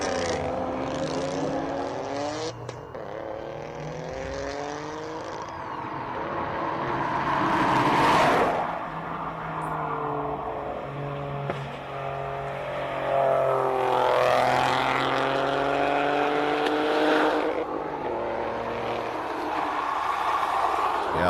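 A three-cylinder race car at the Simola hill climb, its engine note rising and falling as it revs through the gears, swelling louder then fading, heard at moderate distance with faint commentary underneath.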